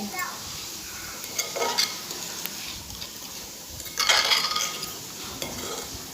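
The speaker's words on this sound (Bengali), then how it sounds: "ভালো করে মিশিয়ে নিতে হবে ভালো করে নাড়তে হবে" A spoon or utensil stirs a bread pudding mixture with egg in a bowl or pan, giving soft irregular scrapes and light clinks that come in uneven bursts, close and fairly quiet, with no talking.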